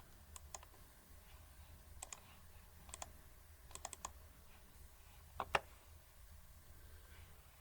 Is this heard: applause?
no